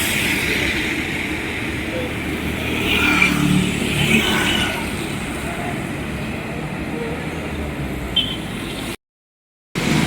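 A bus bound for Pattambi passes a roadside bus stop, its engine rumble building to a louder swell midway before fading into steady traffic noise, followed by a brief dropout.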